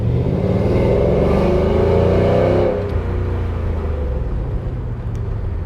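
A 1955 Ford fitted with a Coyote 5.0 V8 pulls hard from a slow roll, a loud close engine roar with rising revs for a few seconds before easing off into a lower steady rumble.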